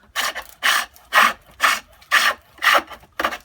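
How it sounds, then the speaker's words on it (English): Roughing gouge cutting wood on a foot-powered pole lathe while shaping a garden dibber, seven loud, evenly spaced rasping strokes close by, each followed by a brief gap as the pole returns. "next I'm going to swap onto the roughing gouge to give me the shape that I'm after"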